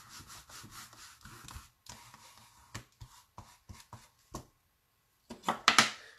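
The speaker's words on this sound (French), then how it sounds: "j'oublie pas de nettoyer mon tampon" A rubber stamp is scrubbed clean in short, irregular rubbing strokes with pauses between them, ending in a louder burst of quick scrubbing.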